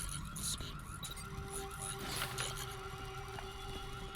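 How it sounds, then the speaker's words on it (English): A siren wails in the Crysis 2 video game, a faint steady tone held under a busy mix of game noises with squeals and clanks throughout. "Oh, that fucking siren."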